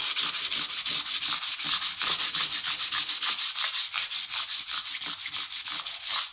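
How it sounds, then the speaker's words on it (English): Hand sanding of a guitar fretboard during a refret, a steady run of rapid back-and-forth abrasive strokes, close and loud, with no talking. "So I'm going to sand until I remove most of the marks."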